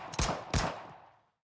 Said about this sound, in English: Then several more shots.